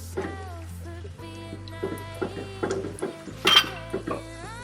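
A spoon scrapes and clinks against a metal pot as vegetable stew ingredients are stirred together, in a series of irregular close knocks, with faint tonal background music underneath.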